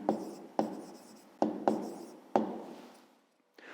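A pen scratches an answer onto paper in several short, distinct strokes with brief pauses between, close and clear.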